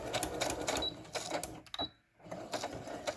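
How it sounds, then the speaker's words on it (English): A sewing machine runs a straight stitch through scraps of recycled plastic packaging, its fast rattling needle whir coming in close bursts with a brief stop and near-silence before it starts up again. "I'm just doing a straight stitch."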